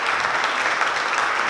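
A room full of listeners at a talk breaks into applause, a brief, loud and evenly sustained burst of many hands clapping.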